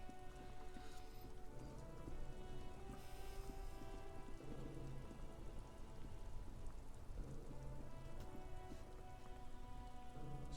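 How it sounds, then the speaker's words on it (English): Steady rain pours on surfaces in the video game Disco Elysium, a constant dense patter with scattered drops and a faint low rumble like distant thunder throughout. "Stuck in the rain in a traffic jam"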